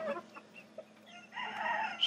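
Young mottled Houdan and silver spangled Appenzeller cockerels make soft, faint clucks and short chirps, then give a longer rising crow-like call near the end.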